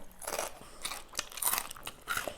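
Close, crunchy chewing of Thai som tam papaya salad with crispy pork rinds, steady crackling bites filling a short stretch with no talk.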